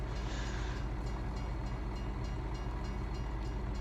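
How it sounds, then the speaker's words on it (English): A train rolls past in the video game Farming Simulator 19, a low steady rumble of wheels and cars with rhythmic clacking over the rails, moderately close and sustained throughout. "Oh, and there's the train. So we'll wait for the train to pass"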